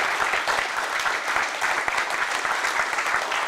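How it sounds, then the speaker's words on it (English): A college football team at Vanderbilt gives a sustained round of applause, dense steady clapping from a room full of people, loud and continuous with no speech over it. "Another round of applause for Reggie"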